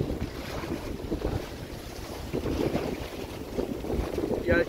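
Steady wind buffets the microphone aboard a sailboat on the Red Sea, with water sloshing against the hull in a continuous, gusty rush.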